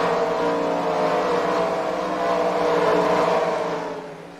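Race cars roar around the dirt oval at Eldora Speedway, a dense sustained engine drone that swells and then fades slightly at the end, loud and continuous with no voices.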